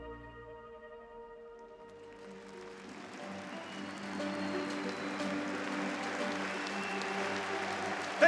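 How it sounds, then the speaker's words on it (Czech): An arena crowd at Sparta Prague's stadium applauds thousands of blood donors at a ceremony. The applause swells in after about two seconds and settles into a steady, dense roar as sustained musical tones fade underneath. "Tento potlesk patří vám, tisícům dárců krve"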